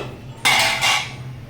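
A lid set onto a cooking pot on the stove while vegetarian Malabar spinach curry is being made, giving one bright metallic clatter followed by a second clink about a third of a second later, fairly close, with no talk.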